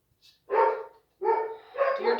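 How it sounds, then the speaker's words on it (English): Dogs in a yard bark at someone arriving: a short yip, then three loud, close barks in quick succession with a brief pause after the first, sharp and clear against otherwise quiet surroundings. "They bark at anybody that comes in the yard"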